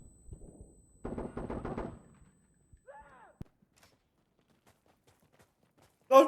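Gunfire in the video game Insurgency: Sandstorm, a rapid burst of close shots lasting about a second, with scattered single reports and a loud crack near the end amid otherwise quiet gaps.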